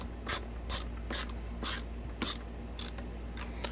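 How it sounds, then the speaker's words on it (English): Husky ratcheting screwdriver driving a screw into a Bissell PowerForce Helix vacuum during assembly, giving six evenly spaced, close, sharp clicking bursts over a quiet hum. "now we'll put this screw in on this side"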